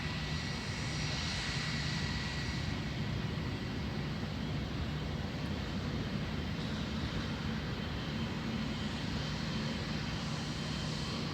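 Boeing 777 jet airliner of China Southern, a large twin-engine passenger jet, with a steady broadband engine roar and rumble held throughout at close range without any talk.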